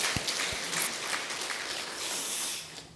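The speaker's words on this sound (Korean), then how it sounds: "박수 한번 하시겠어요?" A church congregation applauds during a Sunday morning worship sermon; dense, steady clapping from many people fills the room for several seconds, fairly distant and even in loudness.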